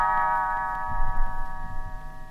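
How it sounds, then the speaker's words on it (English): Tinkerbell's little bells chime as a page-turn signal in a Disney Davy Crockett read-along story, a bright sustained ringing tone that opens loud and slowly decays over a soft low rumble. "You will know it is time to turn the page when Tinkerbell rings her little bells like this."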